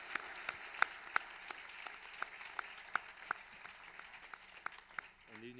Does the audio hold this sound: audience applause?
yes